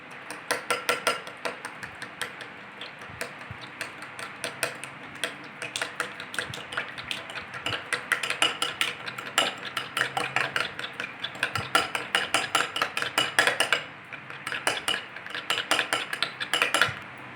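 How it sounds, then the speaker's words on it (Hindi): A spoon beats egg yolks with salt in a bowl for a fluffy souffle omelette, giving a fast, steady run of light metallic clinks and scrapes that stays close and moderately loud with no voices. "चम्मच की मदद से फेंट लेंगे"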